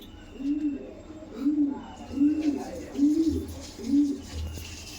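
Pigeons in a loft at a seller's place coo in a slow, regular series of about five low, throaty calls, each rising and falling, close by against quiet background noise.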